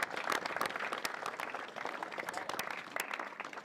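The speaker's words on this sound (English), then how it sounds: "I think probably deserves a clap for those guys" Audience applause at a lawn bowls open final for the greenkeeper and volunteers, steady clapping from a modest crowd that runs throughout, fairly distant and quiet.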